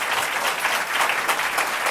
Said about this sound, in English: a round of applause for our local elected officials as well